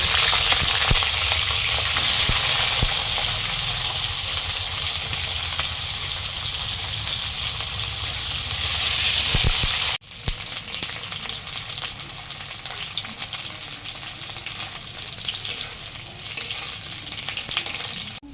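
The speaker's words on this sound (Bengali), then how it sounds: "কেটে রাখা ফুলকপিগুলো দিয়ে দেবো।" Cut cauliflower fries in a pan for an egg, potato and cauliflower curry, with a loud continuous sizzle that breaks sharply as the pieces go in and then settles into crackling bubbling with stirring.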